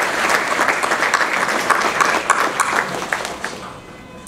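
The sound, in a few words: applause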